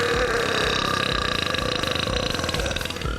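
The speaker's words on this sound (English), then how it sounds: "champion burps can reach up to 109 decibels." A champion burper lets out one long, loud, sustained burp from an open throat, rumbling and raspy for about three seconds at steady, near volume with no talking over it.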